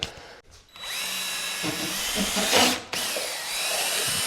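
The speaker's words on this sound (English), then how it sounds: "I got a paddle bit for my drill to mix the paint." A drill with a paddle bit mixing paint runs continuously at high speed with a steady whine and churning, briefly stopping and restarting; close and loud.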